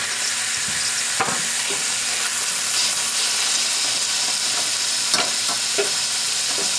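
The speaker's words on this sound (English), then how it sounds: "I'm going to push it over to the side, and I'm going to fold in the ground pork" Lobster meat and ground pork stir-frying in a pan for a Cantonese-style lobster dish, a steady sizzle with occasional scraping and stirring clatter near the pan, no talking.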